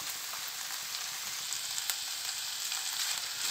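Chicken cooking in a pan over a medium-low flame gives a steady, fairly quiet hiss of frying, a continuous bright sizzle with a few small pops and no talking.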